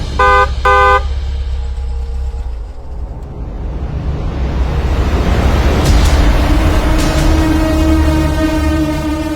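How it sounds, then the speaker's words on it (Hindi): A car horn gives two short toots, then the car's engine starts and revs up into a loud, steady idle that continues to the end, close by, with no talking. "तो गाड़ी निकाल, डेरे पे चलें।"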